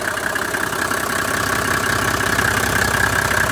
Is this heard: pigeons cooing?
no